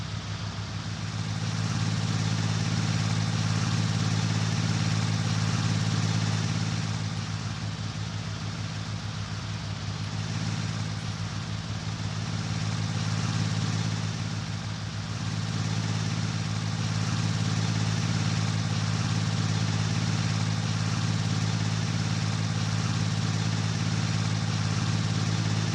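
Vehicle engine idling in the video game Farming Simulator 19, a steady low droning hum with strong low tones that holds throughout with slight swells, no voices.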